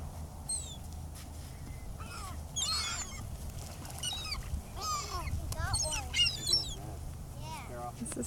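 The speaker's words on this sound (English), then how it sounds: "they just started coming one by one by one until all these seagulls are here" Seagulls gathered at Lake Hodges call repeatedly with sharp cries while being fed bread, heard over steady outdoor background noise and wind.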